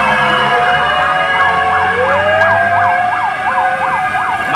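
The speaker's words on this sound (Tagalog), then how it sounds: "daming fire truck" Several fire truck sirens wail at a pier fire in Manila, their rising and falling sweeps overlapping loudly and continuously above a low engine rumble.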